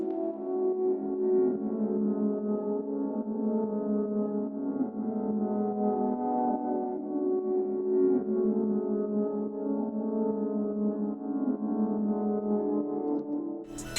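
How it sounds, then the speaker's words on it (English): Soft, sustained piano-like tones swell and blur together in a steady, hazy wash for the whole stretch, low and mellow, with a brief bright flick at the end. "Third sound we have is this reverse piano, and it sounds like this."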